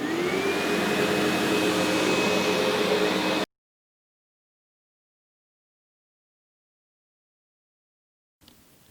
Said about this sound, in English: And last, we're going to vacuum.